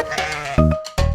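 A goat bleats in a loud, close, wavering cry, then a short second bleat follows after a brief pause, with no talk over it.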